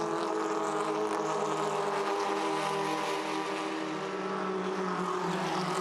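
SsangYong utes race around the Pukekohe track at the ITM Auckland Super Sprint in 2017. Their engines make a steady, layered droning roar that holds at an even level, heard from some distance with no talking.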